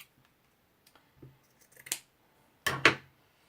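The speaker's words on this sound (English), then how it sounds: "Oh, wrong scissors. No wonder that won't cut." Scissors snipping at something that resists cutting, a few soft short snips followed by two louder, close crunching cuts near the end, with quiet gaps between.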